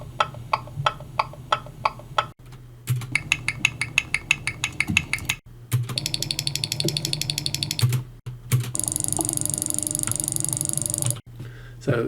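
Car turn-signal blinker clicks, sped up heavily in Audacity, come as rapid evenly spaced ticks in several bursts, each separated by brief gaps of near-silence, with the rate and tone shifting between sections.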